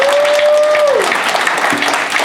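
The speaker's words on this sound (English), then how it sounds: "If you guys want to clap for that, I won't stop." A convention awards panel audience applauds, a full, loud burst of many hands clapping close by, with a faint tonal sound sliding down early on and a brief low blip near the end.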